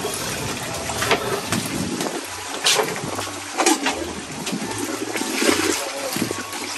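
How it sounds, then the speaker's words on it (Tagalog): Water splashes and gurgles into a pot of washed rice in uneven bursts, close and fairly loud, with a low hum underneath. "Tutubigan ko na po itong bigas."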